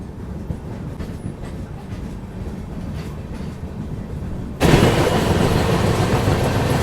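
Rumble and rattle of a Humsafar Express passenger train running, a steady low interior drone that suddenly grows louder and brighter partway through, as if a door or window opened onto the track noise.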